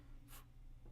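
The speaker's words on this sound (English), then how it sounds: "let's write this one down first" A short stroke of writing on a board during a semiconductor physics lesson, a single quick scratchy swipe in the middle of the second, faint and alone over a low steady hum.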